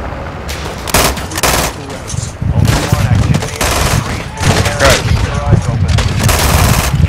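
A vehicle-mounted heavy gun in Call of Duty: Modern Warfare II pounds out loud, close bursts of rapid fire in repeated volleys, with voices talking over the shooting.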